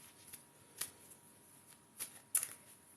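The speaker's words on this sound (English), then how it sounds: "let's shuffle the angel cards" Angel oracle cards being shuffled in a few quick riffling bursts, close and fairly quiet, with short pauses in between.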